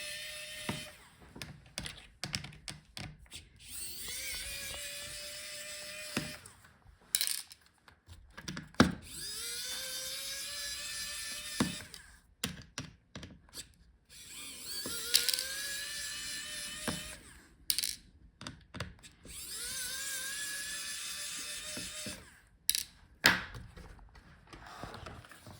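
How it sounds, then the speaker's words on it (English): A small electric screwdriver whirs in repeated bursts, backing out the hinge screws on a Lenovo ThinkPad P1 Gen 3 laptop during a teardown. Each close, steady whine lasts a few seconds, with short clicks and pauses between screws. "So let's unscrew the screws for the hinges."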